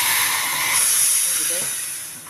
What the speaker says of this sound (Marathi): आता याच्यात आपण पाणी टाकून देऊ.